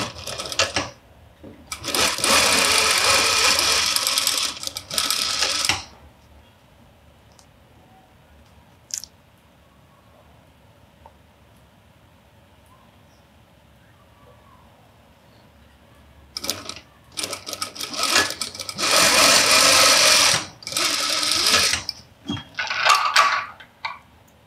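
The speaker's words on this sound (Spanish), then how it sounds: "Vamos a coser cada tela con cada forro a un centímetro de costura." Sewing machine stitching fabric and lining for a glasses case, a loud steady mechanical whirr in a long burst, a quiet gap, then several shorter runs of stitching.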